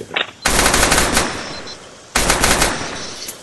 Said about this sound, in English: Machine guns engaging